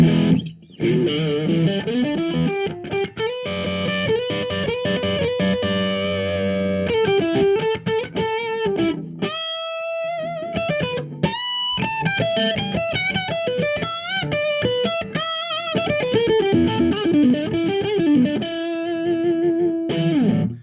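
Gibson Kirk Douglas Signature SG electric guitar with all three pickups on, distorted, effects-heavy tone, plays chords and riffs continuously with brief pauses, loud and close, no voices.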